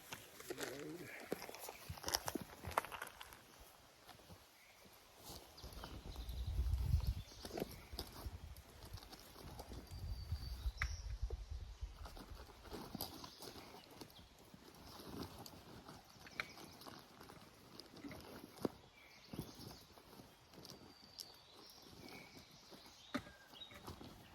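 A mule walks along a forest trail, its hooves clip-clopping softly in an uneven rhythm, fairly faint and close, with quiet outdoor ambience and occasional low handling noises.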